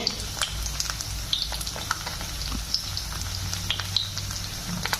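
Food fries in a pan with a steady crackling sizzle, pieces being turned, and sharp pops and spatters breaking through at irregular intervals; nobody speaks.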